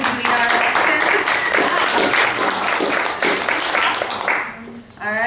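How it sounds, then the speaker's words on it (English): A neighborhood association's May meeting and election audience claps for several seconds, a dense patter of applause that tapers off near the end, with voices mixed in underneath. "we do want to give a huge round of applause to Leah for being out here"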